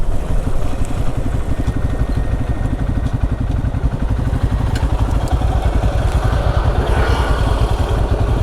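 Xpulse 200 4V motorcycle fitted with a Motowings performance exhaust, idling at the roadside: a steady, loud, close low thump with rapid regular pulses throughout, no speech.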